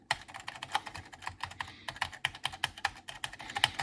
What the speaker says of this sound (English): it's a pretty nice keyboard to type on